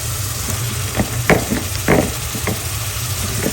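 Dried pond-fish shutki fries in a pan, giving a steady close sizzle broken by a few sharp scrapes and knocks as it is stirred.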